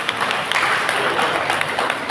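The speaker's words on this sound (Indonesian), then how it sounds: "Boleh dikasih tepuk tangan." An audience at a church devotional-year celebration breaks into applause, a dense, continuous patter of many hands clapping at close range, with some voices mixed in beneath.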